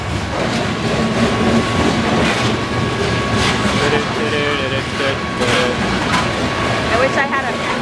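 A train rolls past on rails up close, a steady loud rumble with clattering wheels filling the whole stretch, and a faint voice is mixed in.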